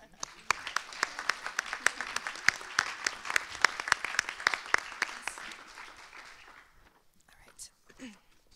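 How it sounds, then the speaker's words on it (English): An audience at a conference keynote panel claps together in a dense burst of applause that gradually thins out and fades, followed by a few quiet murmurs. "Let's give everyone one more round of applause."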